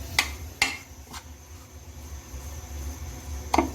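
Rasmalai dough being mixed in a bowl, with a few sharp clinks of a utensil against the bowl and soft scraping and stirring between them, close and fairly quiet.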